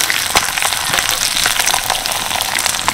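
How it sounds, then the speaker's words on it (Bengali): Hot oil crackles and sizzles loudly and without pause as puffing sago snacks deep-fry close by, with dense bursts of popping throughout. "শুধু তেলটা গরম থাকলেই ব্যাস, দারুণভাবে কিন্তু ভাজা হয়ে যাচ্ছে।"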